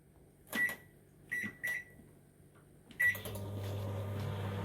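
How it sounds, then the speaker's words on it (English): A few keypad beeps sound, then a door thumps shut and a microwave starts humming, a steady low drone that continues to the end. "Now we put it in the microwave for 6 minutes."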